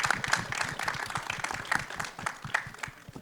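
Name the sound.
audience applause at trailer launch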